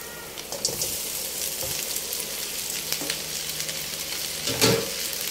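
Boiled chicken feet frying in a pan, a steady loud sizzle with occasional stirring scrapes and a brief louder flare of spattering near the end.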